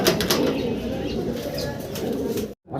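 A single crested Mundi pigeon, milky coloured, gives continuous close cooing mixed with a soft flutter of wings, with faint voices in the background before a brief cutoff at the end.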